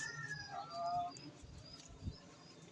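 Racing pigeons at feeding time in a loft, soft low coos and a few brief chirpy calls drifting in at a moderate distance, quiet and intermittent over faint background noise.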